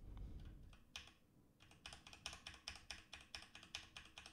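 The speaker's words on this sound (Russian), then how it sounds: "Давайте пощелкаем клавиатурой." Rapid clicky typing on a mechanical keyboard with red switches, a steady run of crisp keystrokes up close after a brief pause at the start.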